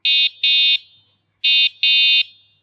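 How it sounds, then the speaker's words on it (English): Two pairs of loud, shrill electronic horn beeps from a Motovolt ICE folding electric bicycle's built-in horn, each pair of short blasts separated by a pause, sounding alone with no talk. "now check out the inbuilt horn, the electric horn"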